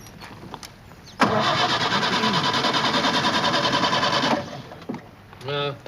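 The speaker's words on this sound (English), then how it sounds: "The engine turns, but it doesn't start." A car engine cranks steadily without catching for about three seconds, a loud rhythmic starter churn that stops abruptly, followed by a brief voice.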